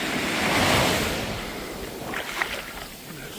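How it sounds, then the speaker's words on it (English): Ocean waves at Rincon Beach on the Samaná Peninsula, Dominican Republic, a close continuous wash of surf swelling and receding, with some wind buffeting the microphone. "So this is the Rincon Beach."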